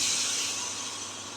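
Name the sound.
water poured into hot spiced oil, hissing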